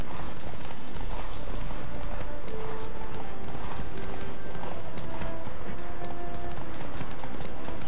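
Horse galloping in The Witcher 3: Wild Hunt, a steady clip-clop of hooves running continuously over a dense game soundscape with rain-like hiss, loud and close throughout.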